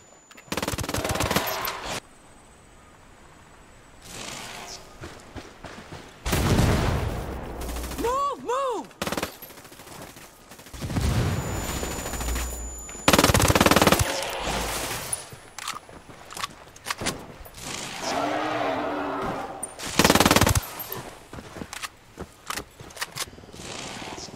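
Gunfire from the video game Ghost Recon Wildlands: long bursts of automatic fire and scattered shots, loud and close, mixed with game sound effects and intermittent shouted voices.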